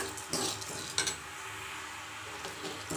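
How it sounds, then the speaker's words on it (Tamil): Chilies and grated coconut sautéing in a pan for a thugaiyal, a soft continuous frying sizzle with a few scraping stirs and clinks of a utensil, close and low. "இதுலேயே இந்த மிளகாய் தேங்காய் இதை கூட நம்ம வந்து ஒரு பரட்டு பரட்டிட்டு நம்ம அடுப்பை வந்து ஆஃப் பண்ணிடலாம்"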